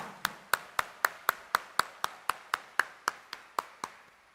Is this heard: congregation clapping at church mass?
yes